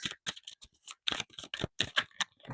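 Tarot cards being drawn and shuffled from a deck, a quick run of crisp dry flicks and snaps, close and clear with no talk.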